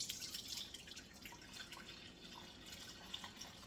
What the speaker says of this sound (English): I'm going to use the strainer, and I'm going to pour any little residue that I don't want in there to make it a smooth drink